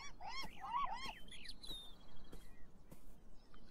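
Seagulls in the game Beyond Eyes give a quick cluster of squawking calls at the start, then fade to sparse, fainter cries and ambient noise.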